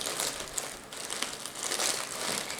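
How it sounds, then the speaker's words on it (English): Tags being pulled off new products: a brief, faint, continuous crinkling and rustling of paper or plastic, close by, with no voices. "I take all the tags off."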